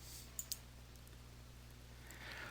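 A computer mouse clicking the OK button in a Microsoft Outlook dialog box, two sharp quiet clicks in quick succession over a faint steady hum.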